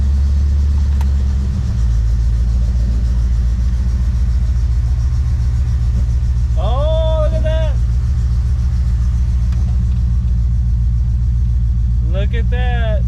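A 1984 Chevrolet Corvette C4 reverses slowly with a steady, low engine rumble throughout, while someone talks briefly over it at a couple of points.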